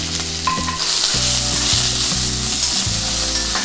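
Okra (lady's finger) fries loudly in a pan with a constant sizzle, while rhythmic scraping strokes stir it throughout.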